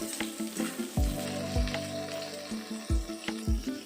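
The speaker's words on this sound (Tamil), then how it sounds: "கொஞ்சமாக கருவேப்பிலை சேர்த்து வதக்கிக்கோங்க." Cashew nuts and curry leaves sauté in a pan with a soft, continuous sizzle, broken by several ringing metallic clinks as a utensil strikes the pan.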